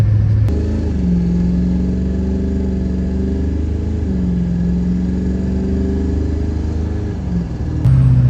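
Duramax LB7 diesel pickup engine on stock tune, a loud, close rumbling drone that rises and falls as it is revved, with sharp clicks at the start and end.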